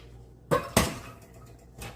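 Chorizo dropped into a pot with a little butter gives two quick clanking knocks against the metal in a close kitchen, then a softer clatter.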